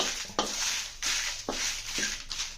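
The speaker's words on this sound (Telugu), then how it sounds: "కొంచెం ఆయిలేసి మీ కారానికి సరిపడా ఎండుమిరపకాయలను రెండు కరివేపాకు రెబ్బలు వేసి వేయించుదాం" Dry red chillies and curry leaves frying in a little oil for a bottle gourd chutney, crackling sizzle broken by four sharp scraping strokes of a spoon against the pan.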